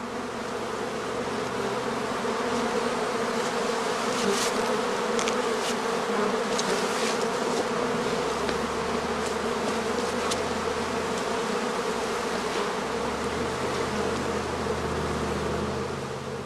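Honeybees in a straw skep hive at a heather-season apiary hum in a dense, steady drone, close and continuous, with individual bees buzzing past now and then.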